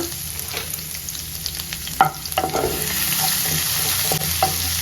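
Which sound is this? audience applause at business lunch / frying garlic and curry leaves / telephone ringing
frying garlic and curry leaves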